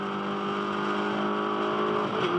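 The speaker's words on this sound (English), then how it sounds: "Turbocharged 4-cylinder engines." Turbocharged four-cylinder MINI race car engines from a 2009 MINI Challenge race, droning loud and steady at high revs with a brief shift in pitch near the end, no talking over it.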